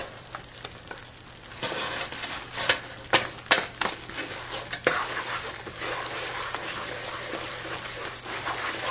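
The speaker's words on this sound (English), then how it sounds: "We'll give this a stir" Spoon stirring a hot toffee mixture with roasted almonds in a pot: scraping, clicking nut rattles and a steady sizzling bubble, with a few sharper knocks in the middle, close up and with no voices.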